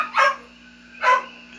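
A dog named Tika gives two short, close whines or yips about a second apart during a nail trim, with quiet stillness between them.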